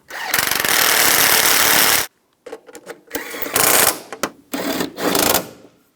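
A power tool runs in bursts while tightening the bolts on a 2004-2009 Toyota Prius front strut assembly: one steady two-second whir, then several shorter loud rattling bursts with brief pauses between them, all close and loud.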